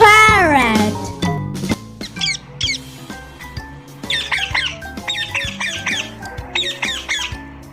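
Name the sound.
parrot squawking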